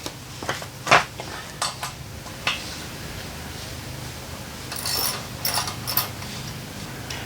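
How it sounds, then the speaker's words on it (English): An 8mm Allen key loosening the fork pinch bolt on a Harley-Davidson Sport Glide with inverted forks, heard as close metallic clicks, ratchety scrapes and a few clinks of tools against metal, spaced irregularly. "to start we got to loosen the pinch bolt"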